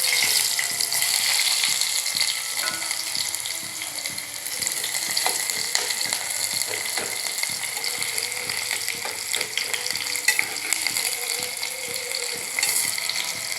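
Onions frying in well-heated oil, a steady close sizzle and crackle with faint stirring scrapes throughout, no voices.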